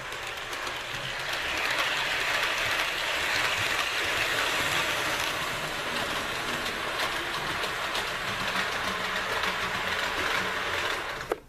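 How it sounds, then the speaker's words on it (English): A steady mechanical whir and rattle of a model train rolling along layout track, continuous and fairly close, with no talking. "And let me back the train up. Show you guys it going the other way."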